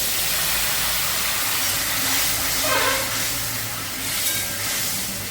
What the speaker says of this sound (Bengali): এরপরে আমি দিয়ে দিচ্ছি গরম জল।